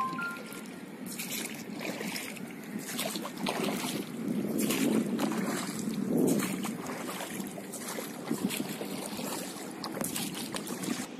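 A boat ride on the water at Muttukadu Boat House near Chennai, with a steady wash of water and wind buffeting the microphone, plus light splashing and a continuous low rumble throughout.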